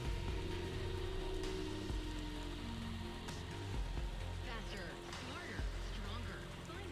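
Steady rain in the video game Cloudpunk patters on surfaces with a low rumbling background, continuous and fairly loud, with faint voices mixed in.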